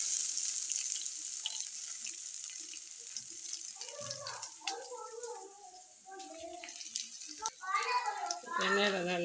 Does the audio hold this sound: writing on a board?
no